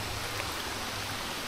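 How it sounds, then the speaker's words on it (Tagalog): Light drizzle falling inside a Spanish-era tunnel, a steady soft hiss of fine rain with no clear individual drops, even and continuous throughout. "Nag-ambon na."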